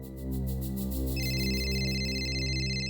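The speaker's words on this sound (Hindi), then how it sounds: "आपका फोन बज रहा है, उठाइए।" A landline telephone ringing indoors with a steady electronic ringtone, a continuous tone that swells and holds with an added higher chime partway through, moderately loud and uninterrupted by speech.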